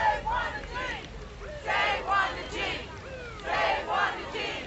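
A crowd of demonstrators outside a prison, raising repeated loud surges of shouting and chanting that rise and fall every second or two over a constant background roar.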